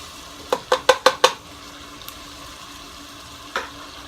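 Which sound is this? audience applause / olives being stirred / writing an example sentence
olives being stirred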